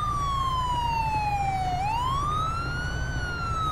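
A police siren from the patrol car of a 2019 Chevy Silverado sheriff's unit in GTA 5 wails loud and close. Its pitch slides down steadily, then sweeps back up over a constant engine rumble.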